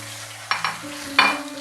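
Tomatoes and chicken fry in a karahi, a soft continuous sizzle with two brief bursts of stirring scrapes close by.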